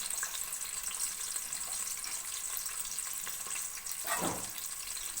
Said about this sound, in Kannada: ಇವಾಗ ಇದಕ್ಕೆ ನಾನು ಒಗ್ಗರಣೆಗೆ ಮೊದಲಿಗೆ ಈರುಳ್ಳಿ ಹಾಕೋತಾ ಇದ್ದೀನಿ